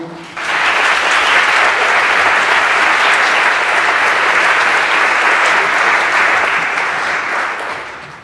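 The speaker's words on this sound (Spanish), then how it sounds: "para el que le pedimos un aplauso" Audience applause at a film festival gala of Asturian cinema, loud sustained clapping from a large crowd that starts abruptly and holds steady for several seconds before easing slightly.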